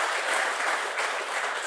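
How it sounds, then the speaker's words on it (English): Applause for panelists after a fireside chat at an energy conference: a dense, even wash of clapping from a large audience, steady and unbroken, with no one talking over it. "how about a round of applause for our panelists?"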